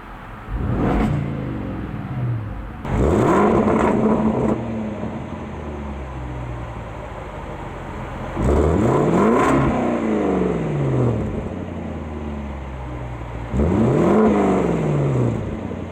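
Land Rover Defender 110 V8 engine revved while parked, three sharp throttle blips that each rise and fall quickly, with a steady idle between them, loud and close, with no talking.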